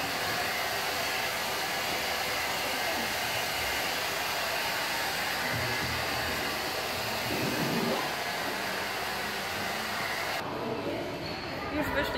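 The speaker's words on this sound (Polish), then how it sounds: "Wysuszyliśmy włosy." A hair dryer blows hot air to dry hair in a swimming pool changing area, a loud, steady rushing whir that runs without a break, with faint voices and room bustle under it.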